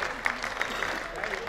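An audience at a Hindi comic poetry gathering applauds with steady, dense clapping throughout, heard from within the hall under a loud voice.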